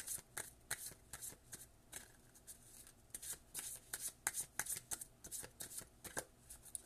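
Oracle cards are shuffled by hand in a quiet room, giving a string of soft, close riffling and slapping bursts in an uneven rhythm, with no talking.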